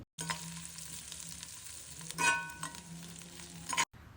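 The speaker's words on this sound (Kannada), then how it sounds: "ಈರುಳ್ಳಿನ ಚೆನ್ನಾಗಿ ಎಣ್ಣೆಯಲ್ಲಿ ಫ್ರೈ ಮಾಡ್ಕೊಳ್ಳಿ" Onion and curry leaves fry in oil in a pan for a village-style horse gram sambar: a steady close sizzle swells briefly when the pan is stirred, then stops abruptly.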